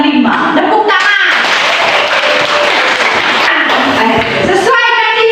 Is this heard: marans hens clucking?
no